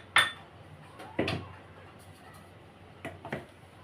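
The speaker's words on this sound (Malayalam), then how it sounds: "ആദ്യം നമുക്കൊരു മിക്സിയുടെ ജാർ എടുക്കാം" A mixer grinder jar being picked up and handled, giving a few sharp hard clinks and knocks, one at the start, another about a second later and a couple more near the end, close and fairly quiet.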